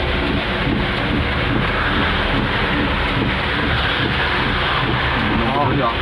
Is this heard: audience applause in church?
no